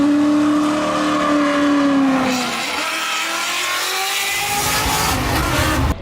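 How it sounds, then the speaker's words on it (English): A 500-horsepower Ford F100 truck does a third-gear burnout, its loud engine howling steadily with shifting pitch as tires spin, a dense continuous roar throughout. "I did a third gear burnout in this truck"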